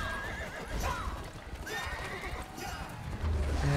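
Horse neighs and galloping hoofbeats from the mobile jousting game Rival Knights, with several whinnies over continuous clip-clop in a busy game soundtrack.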